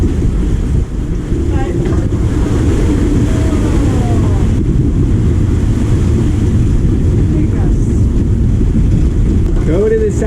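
Strong wind of about 20 knots on the beam roars across a sailboat during a rough South Pacific passage, loud buffeting gusts over rushing water and spray, constant throughout with a brief voice near the start.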